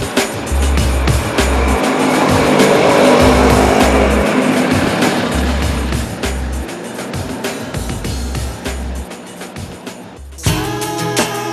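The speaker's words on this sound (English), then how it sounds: "this tuk-tuk with the 3 of us in it was going to have some struggles getting up the hills" A tuk-tuk carrying three people labours uphill, its small engine droning and rattling steadily up close. The engine note wavers under load, and a sharper, brighter sound breaks in near the end.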